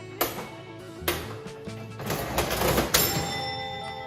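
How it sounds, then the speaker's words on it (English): A cash register in an old-fashioned store thuds and clunks mechanically several times, then gives a ringing bell-like chime near the end, all close and fairly clear. "the cheerful chime of a cash register"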